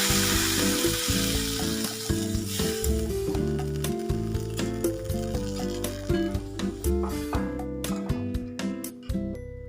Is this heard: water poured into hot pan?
yes